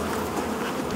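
Dense, steady buzzing of a huge colony of about 60,000 bees inside an enclosure, a continuous close drone filling the whole second with no voices.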